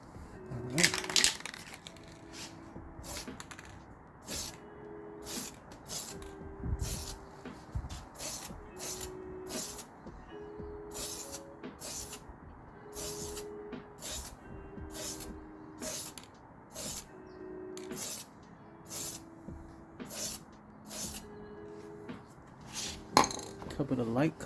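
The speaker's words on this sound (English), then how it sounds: "start spraying this area here" Aerosol spray paint applied to a curb-rashed car wheel: repeated short bursts of hissing spray with rhythmic gaps, plus faint clinks of the can, close by.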